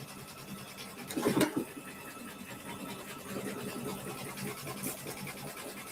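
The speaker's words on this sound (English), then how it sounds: "We're gonna finish stitching our binding on. And then we're gonna start sewing on our applique pieces." A sewing machine stitches binding onto a quilted winter landscape organizer, a steady mechanical whir with a brief louder burst early on and a fast continuous run of stitching through the second half.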